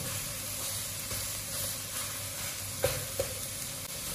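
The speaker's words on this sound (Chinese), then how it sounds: "这里我们要不停地翻炒" Green peppers are stir-fried in a dry wok without oil, a spatula turning and pressing them, giving a steady close sizzle and hiss with a couple of sharp spatula scrapes near the end.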